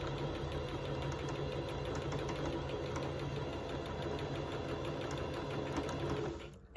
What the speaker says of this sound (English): So I'm going to start sewing this and I'm going to sew it all the way down to unite these two pieces into one.